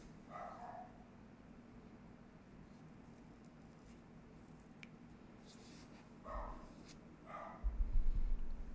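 A small dog in Fire Emblem Three Hopes gives a few short, faint yips at the start and again near the end, over a quiet steady game background.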